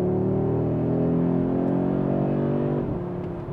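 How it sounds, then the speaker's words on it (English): Exhaust of a 2022 Audi RS 3 in RS mode, a loud, steady, deep drone held close for about three seconds before easing off slightly at the end. "opens up the exhaust. Sounds great."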